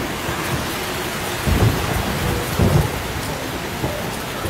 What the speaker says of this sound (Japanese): ひどい雨と風だわ。